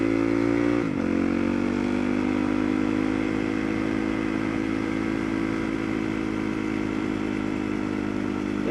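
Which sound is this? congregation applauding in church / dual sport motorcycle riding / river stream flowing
dual sport motorcycle riding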